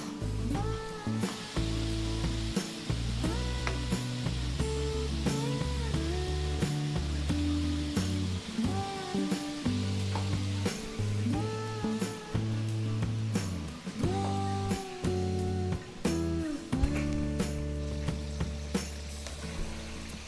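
Batch of chicken frying in hot oil for a birthday celebration, a steady close sizzle running throughout, with music playing over it and no talking.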